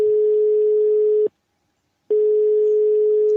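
A loud, steady telephone tone sounds from a call that goes unanswered, cutting off into a brief silence before the same tone resumes, heard up close and alone.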